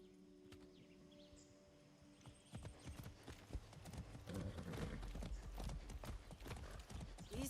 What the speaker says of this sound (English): I haven't ridden a horse since basic training